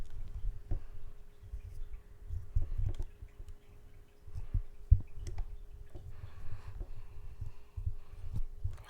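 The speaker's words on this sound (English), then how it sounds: "That's my heart beating." Low, muffled thumping of a heartbeat repeats in a steady rhythm close to the microphone, with soft handling rustles and a faint constant hum.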